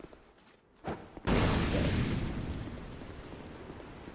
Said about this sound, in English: where those guys are throwing the fire bomb